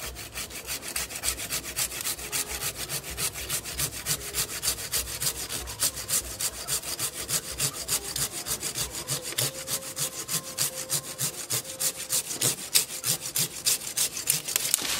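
A Japanese hand saw rasps through a thick longan tree branch in a quick, steady back-and-forth rhythm, each stroke a gritty scrape, close and continuous.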